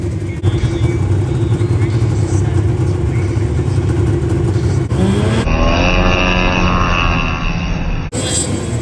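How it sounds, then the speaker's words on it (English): Snowmobiles race across a frozen lake during a snowy grudge-racing day, their engines droning and revving loudly and steadily, with people talking over the engine noise. "We're racing sleds on the lake."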